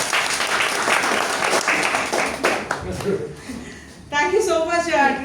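Lively applause from members at a Toastmasters club meeting, strong clapping that gradually thins out, with a person starting to speak over its fading tail.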